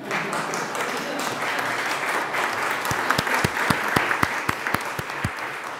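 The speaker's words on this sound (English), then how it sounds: "That was an applause line, by the way." Audience applause at an alumni anniversary panel on the economy: steady, dense clapping from a room full of people, with sharper individual claps standing out toward the end and no talking.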